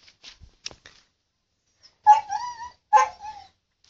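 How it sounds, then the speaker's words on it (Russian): A dog whimpers and yips in a few high, whiny cries, with quiet shuffling and faint clicks in the pauses between. "А вон там собака"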